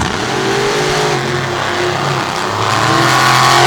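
Monster trucks, Bigfoot 19 among them, race side by side at a night event at the Motor Mile, their engines roaring loud and rising as they accelerate, with no talking.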